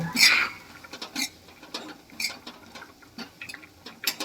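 A spoon stirring lapsi, a Gujarati sweet, in a pot with ghee. Close, sparse, irregular taps, clinks and scrapes against the metal.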